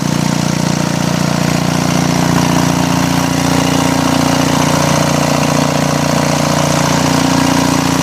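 An Onan diesel generator runs loudly and steadily at close range, a constant low rumbling drone with mechanical vibration and no change in pitch or level, with no talk.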